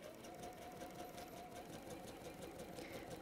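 Sewing machine stitching steadily along a rolled hem on fabric, a continuous close mechanical whir with a fast even rhythm and no talk.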